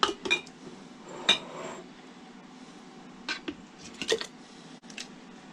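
Glass canning jars being filled with homemade meatless pasta sauce through a funnel, with a few clinks and knocks of glass and metal spread over a quiet kitchen background, no talk.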